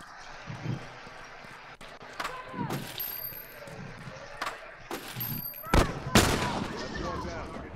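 Gunfire in The Last of Us multiplayer sounds as several sharp shots scattered across about eight seconds, some near and loud and others more distant, with a cluster toward the end.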